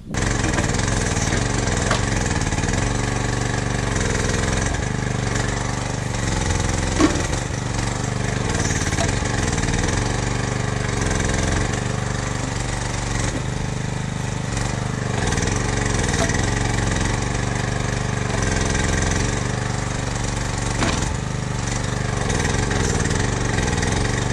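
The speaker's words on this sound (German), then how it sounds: "Und ich bin jetzt hier zum Probebaggern." An excavator fitted with a stronger hydraulic pump runs through a test dig, its engine droning steadily and fairly loud throughout, with slight load changes and a single brief knock partway through.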